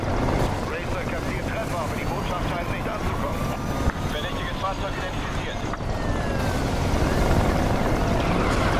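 A police helicopter in the Need for Speed Rivals racing game whirs in a steady, loud rotor drone mixed with rushing wind and engine noise through a chase, with a voice speaking over it.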